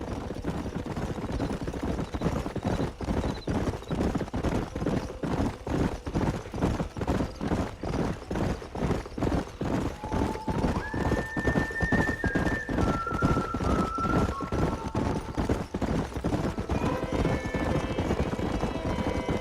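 Horses in the Red Dead Redemption video game gallop with a fast, steady clip-clop of hooves throughout, while whinnies ring out loudly over the hoofbeats in the second half.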